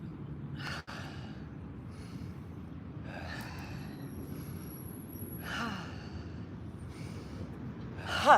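Slow pranayama yoga breaths, inhales and exhales drawn through the nose and mouth, come in several soft bursts spread across a quiet room with a low steady background hum, ending in a louder breath.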